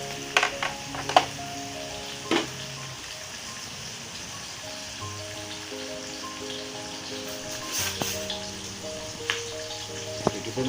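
Chili and green turmeric frying in a pan of wilted aromatics for chicken rendang, a steady close sizzle with occasional stirring clatter and no talking.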